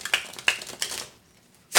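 Quick riffling of tarot cards, a few sharp bursts in close succession, then a brief pause before one more crisp shuffle, close up with no talking.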